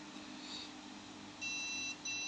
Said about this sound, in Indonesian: buzzer akan menyala